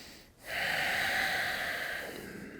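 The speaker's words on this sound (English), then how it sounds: "Take a breath." A long, steady breath drawn in a yoga warrior one pose, rising quickly to a soft, even airy rush that holds for about two seconds before easing off, close and alone with no talking.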